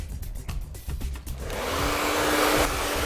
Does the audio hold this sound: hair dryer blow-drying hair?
yes